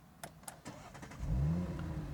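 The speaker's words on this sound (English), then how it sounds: "Let's start the engine." A 2024 Audi RS5 Sportback engine cranks and catches, settling into a low, steady idle rumble after a few clicks from inside the cabin.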